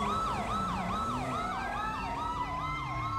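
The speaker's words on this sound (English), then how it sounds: "I heard that shit from all the way down there." Emergency vehicle siren during a police call: a loud, continuous wail rapidly cycling up and down in pitch, with a steady engine rumble beneath and no talking.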